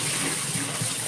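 Water runs steadily while lemon cucumber water is being made, a continuous close splashing pour without pause and with no talking over it.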